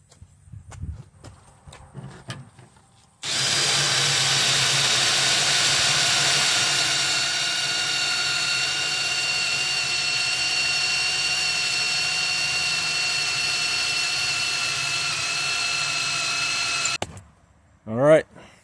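A power drill whirs continuously for about fourteen seconds at a steady high pitch, close by, with brief clattering handling sounds before and after.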